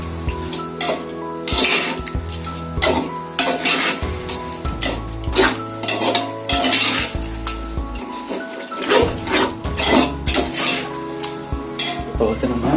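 Turkey biryani is stirred in a heavy pot over heat. A spoon scrapes and knocks against the metal in an uneven rhythm over a constant close sizzle, and no one speaks.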